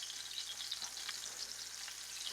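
Butter sizzling with oil in a hot pan ahead of searing a NY strip steak: a steady, bright crackle and fizz throughout, close and even, with no talking.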